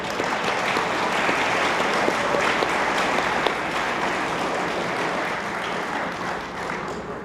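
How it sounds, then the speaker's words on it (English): At a Disabled American Veterans 100th anniversary banquet, a large crowd keeps up thick, sustained applause for several seconds, loud and close, easing only slightly toward the end. "So let's give everyone a round of applause"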